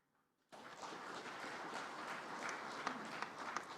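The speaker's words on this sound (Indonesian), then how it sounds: "Jangan tepuk tangan dulu." An audience claps at a presidential address, starting abruptly after a quiet moment and continuing as steady, dense applause with a few sharper claps near the end.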